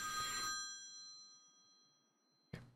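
A telephone rings once inside the indie horror game The Apartment Next Door, a bright bell that quickly fades to silence, followed by a short dull knock near the end.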